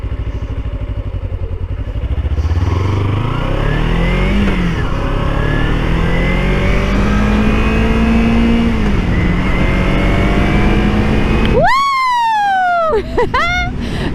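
A motorcycle takes off hard and close, its engine revving up through rising gears in a long, loud, accelerating pull. A siren wails in briefly near the end.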